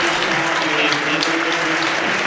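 Crowd applause at a women's rugby match, a dense steady clapping from the stands held at even volume across the whole stretch, with faint voices beneath.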